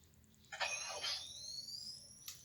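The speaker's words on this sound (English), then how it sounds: "when I'm waking these up from hibernation, they have a really cool boot up sound" A lightsaber boot-up sound: a bright rising whine with crackling buzz, sustained tones sliding upward, then a short beep near the end. Quiet, no talking.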